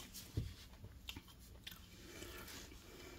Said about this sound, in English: let's try a bite with cheese